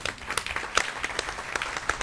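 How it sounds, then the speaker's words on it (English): Brief applause at a board of directors meeting for 37 newly sworn-in U.S. citizens, a scattered crowd clapping moderately loud for about two seconds. "do we applaud for that? I think we do."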